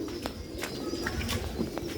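Sialkoti pigeons coo softly in a low, repeated, burbling rhythm, moderately near and fairly quiet over a brief stretch with no voices.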